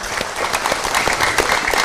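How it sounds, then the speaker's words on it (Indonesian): A studio audience at a community empowerment show in Demak bursts into lively applause, steady dense clapping that holds for under two seconds. "Kita beri tepuk tangan yang meriah"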